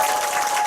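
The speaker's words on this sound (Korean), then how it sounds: "큰 박수 부탁드리겠습니다" A short, loud burst of dense applause from an audience at a group meeting, many hands clapping together in a steady wash with no voices.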